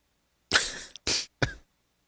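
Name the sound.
cough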